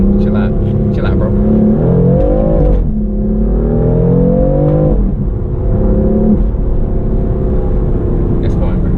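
A BMW F82 M4 engine pulls hard under acceleration, its loud exhaust note rising through the revs inside the cabin, with a gear change partway through while people talk over it.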